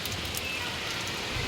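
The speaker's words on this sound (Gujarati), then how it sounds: "બહુ વરસાદ આવે છે" Dense, steady rain pouring down, a constant hiss of drops striking surfaces close by.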